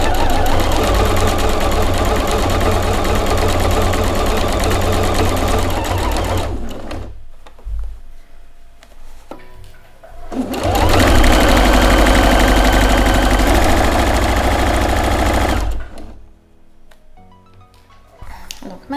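Domestic sewing machine stitching a fabric flap for a handmade knitting needle case, a loud continuous close motor whir in two long runs separated by a quiet pause with small handling clicks, then a final brief burst.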